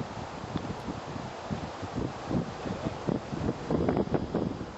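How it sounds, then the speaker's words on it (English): Gusty wind rushes across an open golf course and buffets the microphone, giving a low rumbling noise that swells and fades in irregular bursts, with no voices. "Wind is blowing into him now."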